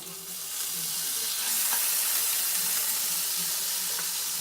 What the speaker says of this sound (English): So I'm going to saute this. Let's put some garlic.